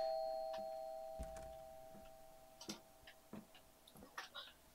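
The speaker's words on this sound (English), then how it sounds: "Then who's ringing the flipping doorbell?" A doorbell rings in the horror video game Fears to Fathom, a faint sustained chime that fades away, followed by a few scattered soft ticks and clicks.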